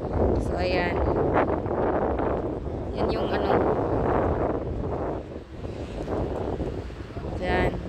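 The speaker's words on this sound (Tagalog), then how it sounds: "Ang lakas pa ng hangin." Strong wind buffets the microphone at a seaside Inari shrine in Yamaguchi, Japan, a loud continuous roar of gusts with surf-like rushing, while a person talks over it.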